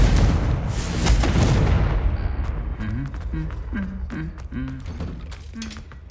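A Confringo fire spell bursts with a loud, broadband explosive blast in Hogwarts Legacy, the roar filling the opening seconds and slowly decaying, followed by quieter game voices and effects.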